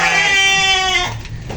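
A sheep gives one loud, close, quavering bleat lasting about a second, followed by a brief quieter murmur.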